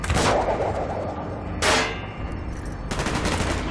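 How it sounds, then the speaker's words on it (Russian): Bursts of automatic gunfire ring out in Call of Duty: Black Ops, in three loud volleys separated by short gaps, with no talk over them. "Стрельба слишком слышна."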